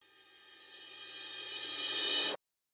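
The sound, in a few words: reverse cymbal effect in music production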